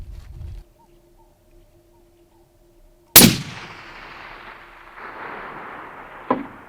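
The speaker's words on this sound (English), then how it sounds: "I'm going to take 3 shots here." A single loud, sharp airgun shot fired at a target cracks out after near silence, decaying with a faint echo, followed by a fainter second report a few seconds later.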